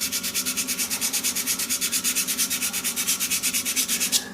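Sandpaper is held against a shaving brush handle spinning on a lathe, a rapid, even back-and-forth rasp of about eight strokes a second, close and steady before stopping abruptly.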